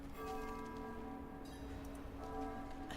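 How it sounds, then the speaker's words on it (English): A bell tolls in the Diablo 4 video game, its ringing tones sounding moderately and fading between strikes over a quiet ambient background. "you hear the bell tolling"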